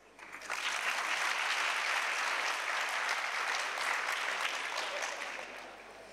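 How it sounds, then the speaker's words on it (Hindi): A seated audience at a talk in Ishq Abad claps loudly, the applause swelling quickly after a quiet start, holding dense and even, then tapering off. "आप मेरी फरमाइश पर एक दफ़ा इस सवाल पे बहुत ज़ोर से तालियां बजा दीजिए"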